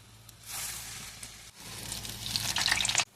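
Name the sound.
frying urad dal onion garelu (vadas) in oil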